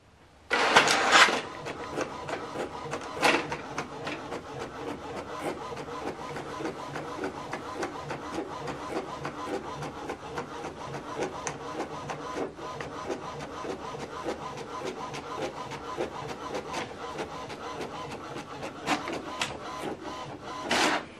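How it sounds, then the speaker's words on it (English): An HP Deskjet printer running a double-sided colour print job, with a steady mechanical whir and rapid clicking throughout, a few louder clunks of paper feeding near the start, no talking. "So this is the document we printed out, double-sided, colored."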